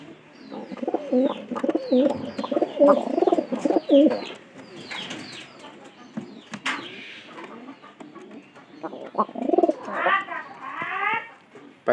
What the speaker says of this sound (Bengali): পায়রিটা কিন্তু ডাকতেছে।